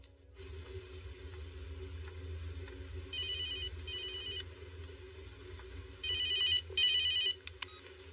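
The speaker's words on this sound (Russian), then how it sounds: "Инспектор Деккер, вам звонят." A telephone rings twice in quick double bursts, then twice again more strongly, moderately faint against a quiet indoor background.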